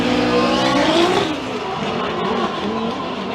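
Formula Drift race cars at Palm Beach roar through a drift run, engine howling loud and close with tire squeal, a sustained revving wail that dips slightly midway and holds strong throughout.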